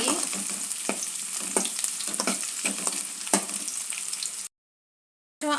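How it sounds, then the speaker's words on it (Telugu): Curry leaves and onions frying in oil in a pan for a potato and fenugreek curry, a steady close sizzle with a few sharp stirring scrapes, then a brief silent gap before the frying resumes. "కొంచెం కరివేపాకు బాగా వేపుకోవాలి"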